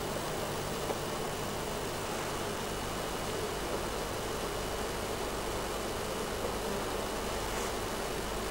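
Bees buzzing at an apiary in August, a dense continuous hum of many insects, steady and fairly close, with no voices.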